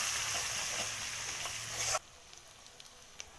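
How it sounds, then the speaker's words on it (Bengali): Onion paste with green chilli and cumin hitting hot oil in a pan, a loud steady sizzle that suddenly drops to a quiet crackle with faint pops. "কাঁচা লঙ্কা জিরে ফোড়ন দিয়ে দিলাম পেঁয়াজ বাটা দিয়ে দিলাম নেড়ে নেবো"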